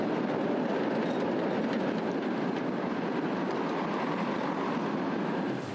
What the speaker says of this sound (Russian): Когда едет поезд, это как маленькое землетрясение.